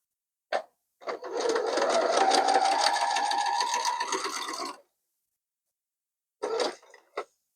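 A sewing machine stitches a quilt block in one sustained run of about four seconds, with short bursts of needle action just before and after.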